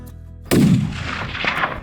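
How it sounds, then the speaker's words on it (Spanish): A single sharp rifle shot during a high-mountain stalking hunt cracks out close and loud, then echoes and rumbles away across the slopes. "Andrés efectuó un disparo totalmente certero sobre el animal."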